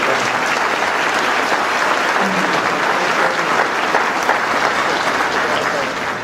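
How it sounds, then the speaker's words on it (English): A banquet audience gives scholarship finalists a long, steady round of applause, dense and loud clapping that holds evenly from start to finish. "Let's applaud"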